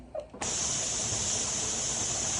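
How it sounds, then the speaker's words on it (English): A pressure canner venting steam starts abruptly into a loud, steady hiss that continues unbroken, close by, after a brief quiet moment with a faint voice. "so we have a steady stream now. We've got a nice strong steam."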